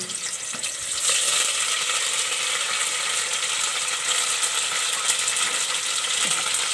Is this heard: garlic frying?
yes